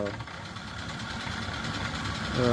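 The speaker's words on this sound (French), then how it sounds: "si vous aimez un peu le moteur de 104, moi j'appelle ça les moteurs de 104, et leur bruit est bien particulier" A Citroën BX 14 RE petrol engine idles steadily at close range, a continuous low, even mechanical hum with faint rhythmic knock, growing slightly louder at the very end.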